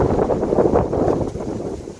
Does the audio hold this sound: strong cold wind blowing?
yes